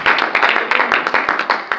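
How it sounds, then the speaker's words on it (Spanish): Church congregation clapping together in a steady, loud rhythmic beat, hands striking in regular pulses close by with no talking over it. "¿Cuánto le pueden dar un aplauso a Dios en esta vida?"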